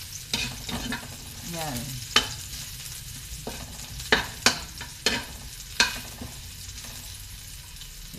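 Chicken liver fries for adobo in a pan alongside onion and garlic, giving a steady close sizzle punctuated by several sharp scrapes and clacks of a utensil stirring against the pan, with a brief spoken word.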